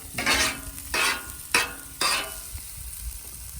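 Eggs cooking on a Blackstone griddle, with four evenly spaced bursts of spatula scraping and sizzle over a low continuous fry, close by.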